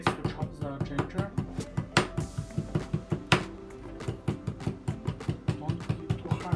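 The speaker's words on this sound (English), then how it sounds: "use this to chop the ginger" Ginger being chopped with the back of a kitchen knife on a board, a steady series of even, moderate knocks in quick rhythm, close and clear with no talk.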